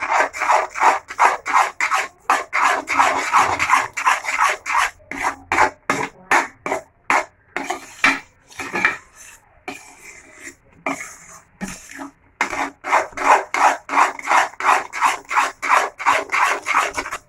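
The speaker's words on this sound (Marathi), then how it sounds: "असं व्यवस्थित सगळं मिक्स करून घ्यायचं जर तुम्ही हे लोखंडी तव्यावर करत असाल" A spatula stirs kulith flour zunka on an iron griddle, giving a steady, loud, rhythmic scraping that repeats in quick strokes, pauses briefly midway, then resumes at a brisk pace.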